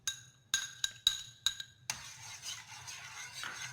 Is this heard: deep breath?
no